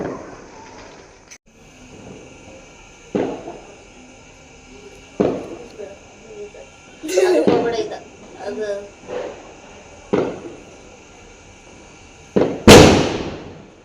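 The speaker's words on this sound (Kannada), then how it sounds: "ಎಲ್ಲ ಹಬ್ಬ ಮಾಡಿ ಹಬ್ಬ ಮಾಡಿ ಪಟಾಕಿ ಹೊಡಿತಾವ್ರಿ" Loud firecrackers burst one after another at irregular intervals during a Tulsi festival celebration, sharp cracks and crackling pops with a big final bang, while people talk in the background.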